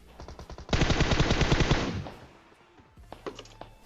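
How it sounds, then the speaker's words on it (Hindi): A rapid burst of M4 assault-rifle fire in the video game PUBG, roughly a dozen quick evenly spaced shots lasting just over a second, followed by a few scattered fainter shots. "मैं धैर्य पैड अपने टीममेट से बेशर्मों की तरह M4 लेता हूं और बंदे पेलता हूं।"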